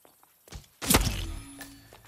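Sniper rifle shot in Hitman 3 at the Pasquel Consortium level, a single heavy thunk-like report with a booming low tail after a couple of softer knocks.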